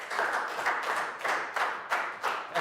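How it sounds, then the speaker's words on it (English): A small group of primary school students clapping for a classmate after a science experiment, a short uneven round of hand claps in a few bursts. "can we have a big round of applause for Chew for doing the experiment?"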